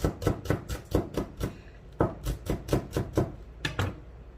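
A knife finely minces Cheongyang chili peppers on a cutting board for Korean cold cucumber soup, with rapid, steady, close-up chopping taps in two bursts separated by a brief pause.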